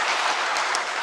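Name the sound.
applause in church congregation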